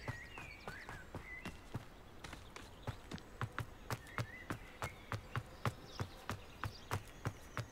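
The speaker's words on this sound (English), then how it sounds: "Have yourself a nice little horse and carriage for this trip because Hogsmeade's a jaunt." Horse hooves clip-clop at a steady trotting rhythm as a horse and carriage travels in Hogwarts Legacy, the regular beats fairly quiet with faint ambient bird and insect sounds behind.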